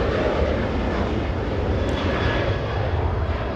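A Southwest Airlines plane departing runway 24 left at Los Angeles International Airport, its engines giving a steady, loud, broadband roar throughout with no voices.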